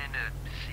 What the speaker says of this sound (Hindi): हाँ, फोन आ गया किसी का दोस्त रेचल का शायद, उठा ले भाई